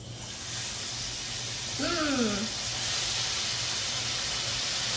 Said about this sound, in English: So you should hear a sizzle.